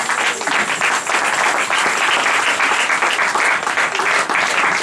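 A French-speaking church congregation breaks into loud, continuous applause during a worship service, a dense wall of clapping that holds steady throughout.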